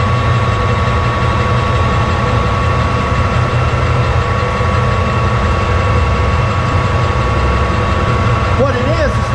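A lathe cutting tool machining bushings for aerator wheel mounts, heard as a steady, unchanging mechanical drone with a constant motor hum throughout and a faint squeal near the end.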